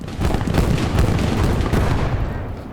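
A heavy, rumbling blast from an anti-tank grenade in the WWII game Gates of Hell: Ostfront, loud and close, with a dense low boom that holds steady before fading over about three seconds.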